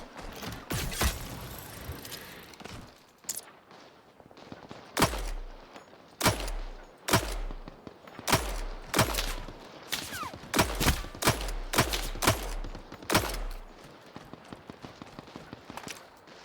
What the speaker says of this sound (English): You can hear the gunshots,